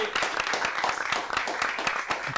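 Scattered clapping from a modest audience at a year-end programme in a restaurant, welcoming Fernando Signorini; individual claps sound fairly close and distinct over a brief stretch.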